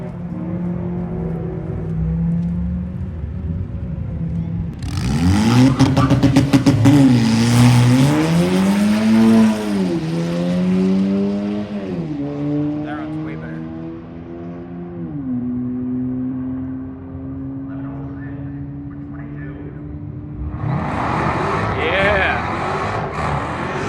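An Audi A3 drag car launches and accelerates down a quarter-mile strip, its engine rising loudly through several gear changes before easing off, while people talk and cheer nearby.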